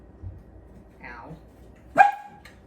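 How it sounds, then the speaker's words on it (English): A pet dog reacts indoors to a UPS delivery man outside during home cooking, with a soft whining sound followed by a single sharp, loud bark near the end. "there's a UPS man outside, so my dog is going crazy as usual"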